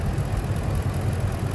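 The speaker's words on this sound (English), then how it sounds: "Metal on metal valve train noise" A Ford 5.4L 3V Triton engine with metal-on-metal valve train ticking runs close by in a brief, steady, loud rumble, with a faint rapid tapping under the drone.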